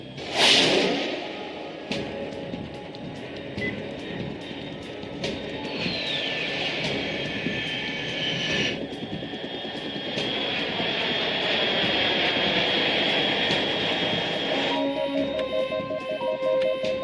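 An aircraft in Metal Gear Solid 3 roars past with a whooshing jet-engine sweep, a sustained loud drone with rising and falling whines under game music and effects.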